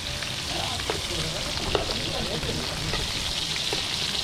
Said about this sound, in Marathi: आता आपण मासे फिरवणार आहोत खालच्या बाजूने फ्राय झाले असतील मासे फिरवून घेऊ आणि दुसऱ्या बाजूचे पण फ्राय होऊ दे